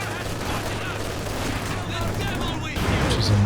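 Machine-gun and small-arms fire in the Company of Heroes 2 real-time strategy game, with dense rattling bursts and booms running continuously under a voice talking.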